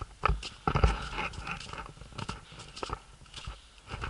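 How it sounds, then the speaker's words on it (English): Dog moving about on a snowy walk, soft padding footfalls and scuffs in snow with a few sharper crunches, close and moderately quiet, no talking. "Somebody's lost control of the dog."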